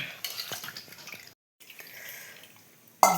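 Water is poured into a cooking pot for pesara pappu pulagam, a soft splashing stream with faint clinks that stops briefly, resumes more quietly, then ends with a sharp knock.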